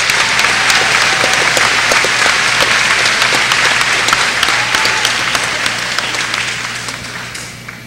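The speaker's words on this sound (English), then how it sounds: "Big round of applause for Mr." Steady applause from a school audience at a middle school event honoring a class, dense continuous clapping that holds strong for most of the stretch and then slowly tapers off near the end.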